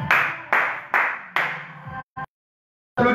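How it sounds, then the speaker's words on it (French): A few separate, loud, echoing claps land at a steady pace, followed by a brief pause, a short clap, silence and then another clap, as people applaud themselves during a live exercise session at home. "Applaudir, hein. Vous pouvez vous applaudir"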